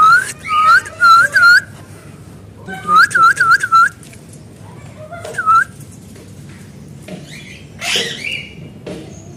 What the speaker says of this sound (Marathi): हे फॉरेनर पोपट आहेत आपल्या भारतामधले